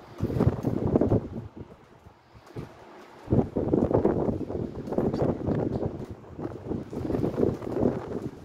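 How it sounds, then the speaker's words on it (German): Hurricane-force gusts from a strong storm batter the microphone with loud, rumbling buffeting that surges in waves, drops to a near lull around the middle, then returns in heavy bursts. "Windgeschwindigkeit bis 110 km/h, Freunde"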